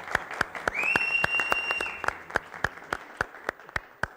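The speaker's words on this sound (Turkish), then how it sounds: "Bir alkış istiyorum Sayın abi." Applause for a birthday on a talk show: a burst of clapping that thins out into spaced, rhythmic claps, with a brief high sustained tone partway through.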